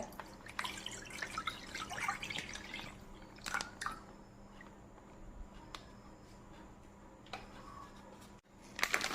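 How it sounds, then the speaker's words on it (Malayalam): One litre of milk poured into a pan for pudding, heard as quiet splashing and dripping with soft knocks against the pan, low and close in a quiet kitchen. "പാൽ ഇതിലേക്ക് പാനിനകത്തോട്ട് ഒഴിച്ചിട്ട്"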